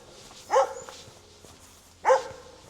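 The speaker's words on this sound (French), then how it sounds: "Le chien vous dit au revoir." A dog barks twice in the woods, short loud barks about a second and a half apart, with quiet outdoor background between them.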